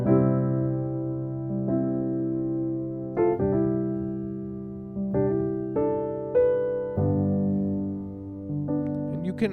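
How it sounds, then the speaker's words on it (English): Gospel jazz chords on piano for a song, struck one after another with a quick grace note leading into a chord, each ringing and decaying cleanly, played alone. "that would be the grace note right there"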